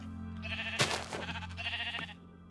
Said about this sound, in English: Hey, little sheep.